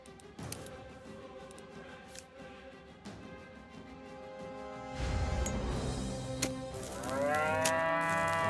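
A cow in the South Park: The Stick of Truth video game moos repeatedly and loudly over game ambience, with a long drawn-out moo swelling near the end.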